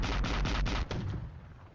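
Artillery fire in the wargame Flashpoint Campaigns: Red Storm, heard as a rapid string of heavy, booming blasts that run together for about a second, then fade into a rumbling decay.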